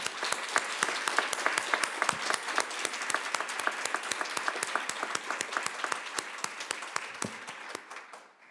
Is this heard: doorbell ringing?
no